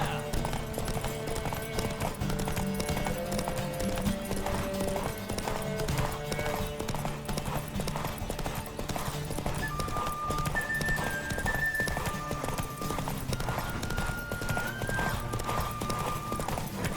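Horse racing at full gallop in The Witcher 3, a steady rapid clip-clop of hooves running loud and continuous throughout, with music underneath and an occasional voice calling out.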